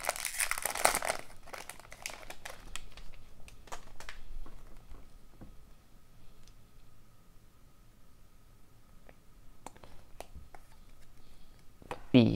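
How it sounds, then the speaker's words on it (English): Crinkling plastic as a Parkhurst hockey trading card pack wrapper is torn open, loud at first, then fading to faint rustles and light handling clicks, with a sharp crinkle returning at the very end. "let's open the pack of Parkhurst"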